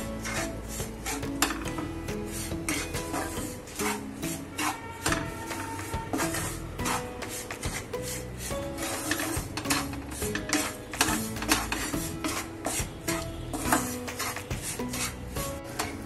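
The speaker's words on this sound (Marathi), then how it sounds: "ही पण आपल्याला छान गुलाबीसर अशी मस्त तुपात भाजून घ्यायची" Wheat flour roasting in ghee in a pan gives a dense, continuous scraping and rustling as a spatula stirs steadily and rhythmically against the metal, close and fairly loud.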